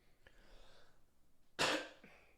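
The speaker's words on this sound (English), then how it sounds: "One little cough to wrap things up." A single sharp cough from a podcast host breaks the quiet near the end, loud and close, followed by a faint breathy catch.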